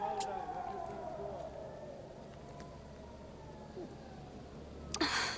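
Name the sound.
siren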